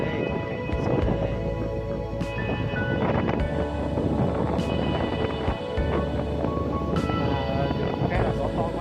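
Strong wind buffets the microphone on a hillside at Mù Cang Chải, a constant loud roar and rumble throughout, with a voice speaking underneath.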